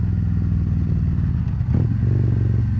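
A motorcycle being ridden, a low steady engine rumble, close and fairly loud, with a brief clatter and rev partway through.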